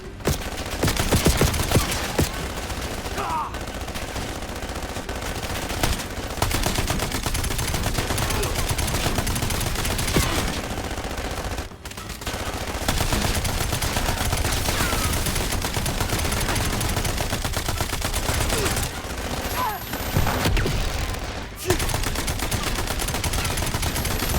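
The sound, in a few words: gunfire in Black Ops 7 video game mission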